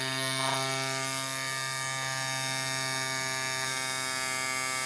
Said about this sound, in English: it's not quiet. It's a compressor, but it's not bad.